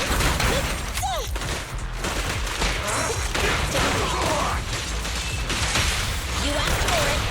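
Dense, continuous gunfire fills a battle in the video game Zenless Zone Zero, a loud barrage of rapid shots and impacts with thuds and crashes running without pause.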